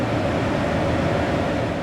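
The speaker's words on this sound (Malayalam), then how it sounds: "ട്രെയിൻ ഗ്രാസിൽ നിന്നും യാത്ര തുടരുകയാണ്." Train pulling out of Graz station, a steady low rolling rumble heard from inside the carriage, continuous and fairly loud, with no voices.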